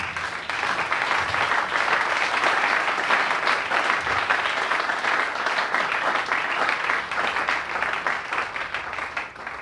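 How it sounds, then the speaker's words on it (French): A church congregation applauds to acclaim the Lord, with dense, loud, sustained clapping from many hands filling the room without pause. "Est-ce qu'on peut acclamer le Seigneur?"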